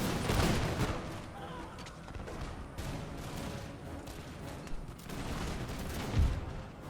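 Scattered musket volleys ring out in an American Revolution battle video game, a broad crackling fusillade of overlapping shots at moderate distance, with a louder burst near the end.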